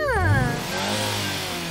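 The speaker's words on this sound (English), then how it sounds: "Let's hear your engine." A toy school bus engine gives one short revving burst with a falling pitch, then settles into a steady hum.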